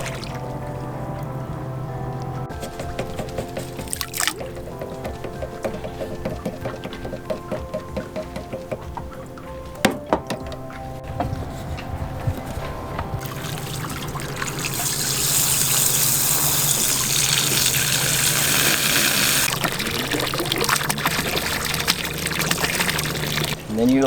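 Salt scale buildup from a boat toilet tipped into the marina water, a few splashes and trickles that swell into a steadier pouring rush near the end, with someone talking over it.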